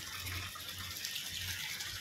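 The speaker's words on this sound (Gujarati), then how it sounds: "પાણી વાસરું ભરવા." Water gushes steadily from a pipe into a cattle drinking trough at a cow shelter, a constant hissing, splashing flow with no pauses.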